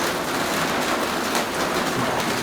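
Steady rain falls in a dense, continuous hiss of drops on surfaces at an outdoor rural cooking spot, close and even throughout with no voices.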